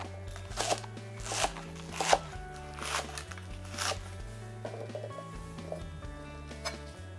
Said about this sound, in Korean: 자르는 것은 보통 한 5cm 정도 자르면 딱 알맞거든요.